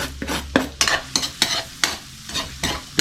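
Butter in a pan for buttered shrimp, with rhythmic scraping strokes of stirring over a close sizzle, about eight regular beats.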